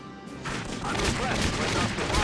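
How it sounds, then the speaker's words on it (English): Dense, continuous gunfire fills a battle in the video game Valkyria Chronicles Remastered, a loud, unbroken crackle of shots and impacts. "I can't even hear the radio chatter because of all the frickin' gunfire."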